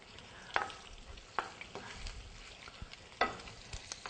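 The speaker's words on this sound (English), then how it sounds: "So we're going to stir these around, just kind of like a little stir fry here" Shrimp stir-fried in a pan make a quiet, light sizzle, broken by a few crisp spatula scrapes and clicks as they are moved around. No one speaks.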